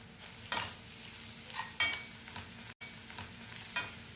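A spoon stirs egg vermicelli (semiya) in a hot pan, giving a soft background sizzle broken by a few sharp scraping strokes at irregular intervals, close and fairly quiet, no speech.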